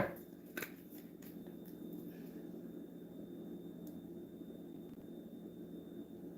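Tarot cards from a bootleg deck are shuffled close by in a quiet room, giving a short burst of riffling and snapping at the start, then fading into soft, sparse shuffling over a steady low hum.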